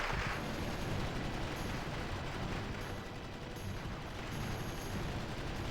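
Dense, continuous gunfire and battle din from infantry units in the Wargame European Escalation video game, a loud unbroken roar of shots with high whistling tones over it.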